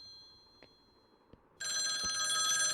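A phone rings in the horror video game Night Knocks, a bright electronic ringtone that starts abruptly and holds steady, loud and close, after a quiet stretch with a couple of soft clicks.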